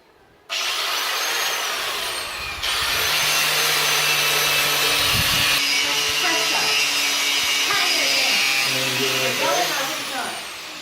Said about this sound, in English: I'm sanding down the frame with electrical power tools to make it easier